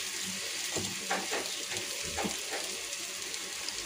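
Prawns go into a pan of frying green chilli thecha masala, giving a continuous close sizzle with soft scraping stirs over it.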